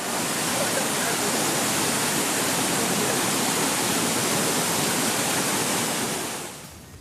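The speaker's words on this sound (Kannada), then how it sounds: "ಕಬ್ಬಿನಾಲೆ ಗುಡ್ಡದಿಂದ ಒಂದೇ ಸಮನೆ ನೀರು ಹರಿತಾ ಇದೆ" Rainwater pours continuously down Kabbinale hill during heavy rain in Udupi district, making a dense, loud, unbroken rushing roar that fades out at the very end.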